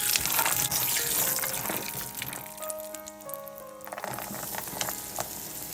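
Cashews and raisins roast in hot ghee in a pan, giving a steady, close sizzling and crackling fry that runs throughout, with a few brief clinks and stirring sounds and no speech.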